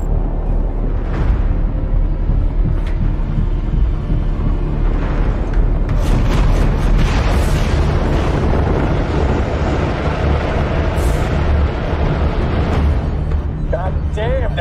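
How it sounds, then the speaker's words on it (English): Space torpedoes fire and detonate in a sci-fi space battle, a dense barrage of deep booms and rumbling blasts with sharp bursts layered throughout, loud and continuous, with voices speaking over the action. "Firing torpedoes. I'll take out as many as I can with the blast."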